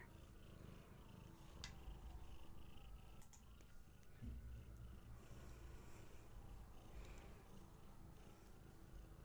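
Two cats, Hattie and Gertie, purr softly and continuously while curled in a person's lap, a low steady rumble close by with a faint click or two.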